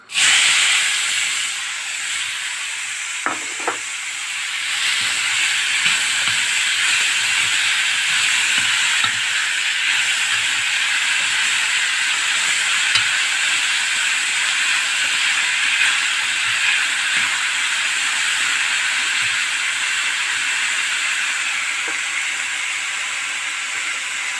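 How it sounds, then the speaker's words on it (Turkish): Three onions sautéing in a hot pan for lentil köfte, a loud, steady broadband sizzle and hiss that holds evenly throughout, with a few faint clicks near the start and no talking. "Şöyle 3 baş soğan kavuralım"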